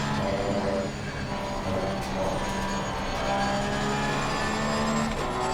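GT3 race car engines roar in a racing video game at COTA while chasing a Ferrari, a loud, steady droning whine with sustained harmonic tones that shift slightly in pitch throughout, with no talking.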